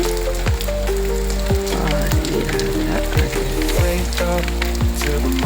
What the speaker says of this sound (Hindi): हो रही है बारिश यहाँ पे।